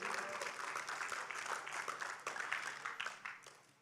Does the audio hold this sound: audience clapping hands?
yes